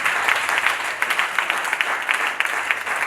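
A congregation at a French-speaking prophetic church service claps together, with close, steady, rhythmic applause running the whole time under a faint murmur.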